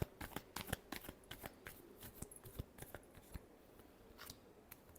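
Tarot cards being shuffled by hand for a final shuffle, a quiet run of crisp riffling snaps and flicks in an irregular rhythm, close and soft, with no talking.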